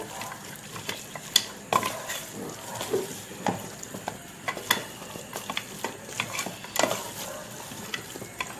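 Fried onions with turmeric and chili powder stir and sizzle in a hot pan, with a utensil scraping and clinking against metal at moderate volume, no talking.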